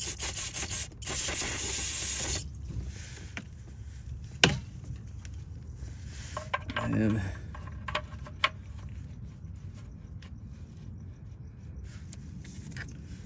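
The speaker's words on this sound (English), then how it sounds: "I'm gonna hit with a little brake cleaner over here" Brake cleaner sprayed on the oil drain plug of a 2021-2025 Chevy Trailblazer, heard as a sharp hissing aerosol burst lasting a couple of seconds, followed by quieter handling clicks and rubbing nearby.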